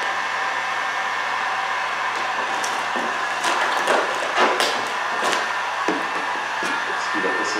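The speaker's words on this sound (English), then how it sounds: "I have my heat gun on high" Heat gun on high warming a Vvivid carbon fiber vinyl wrap during removal, giving a steady, close airy hiss with scattered crackles and taps from the film being worked.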